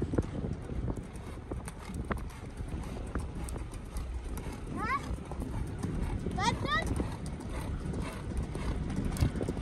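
Horse hooves clip-clopping at a stable, a steady stream of sharp hoof clicks mixed with wind and background noise, with people talking over them and a couple of brief rising whistles midway.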